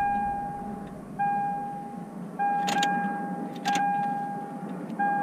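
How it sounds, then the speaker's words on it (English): In a 2003 Lexus IS 300, the key is cycled repeatedly to prime the fuel pump, setting off a steady electronic warning tone that restarts about every 1.2 seconds, with faint clicks and jingling between cycles and no talking. "Try and prime the pump again."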